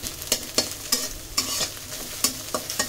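Scrambled eggs sizzle in oil in a pan while being stirred, with a steady frying hiss broken by regular sharp scraping clicks from the utensil.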